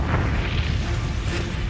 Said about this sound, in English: A huge explosion rips the massive oiler in 2, splitting open its tanks and triggering a gigantic fire